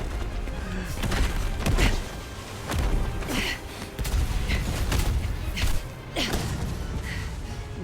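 A video game explosion erupts in repeated heavy booms and crackling bursts, loud and close, rolling on over several seconds with thuds and rumbling between the blasts.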